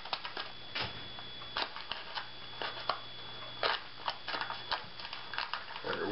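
Soft, irregular snips and crinkly clicks come from a sealed package being cut open, faint and close, with short bursts separated by quiet pauses.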